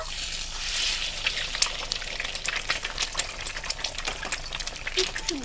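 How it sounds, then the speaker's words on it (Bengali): Egg frying in hot oil in a pan, a steady crackling sizzle with scattered sharp pops running throughout at moderate, close-up volume. "তারপরে আমরা ডিম ভাজতে চলেছি, দেখো।"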